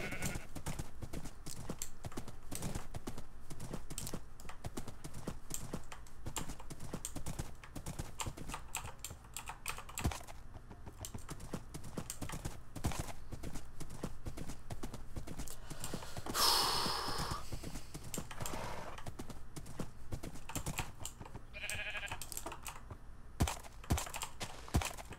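Blocky horse hooves clip-clop steadily through a Minecraft UHC survival match, a quick, even galloping rhythm that runs the whole time at a moderate, fairly close level, with occasional louder game noises.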